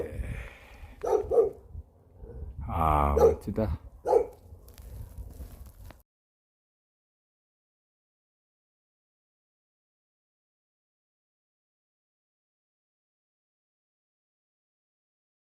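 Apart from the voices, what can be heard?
dog barking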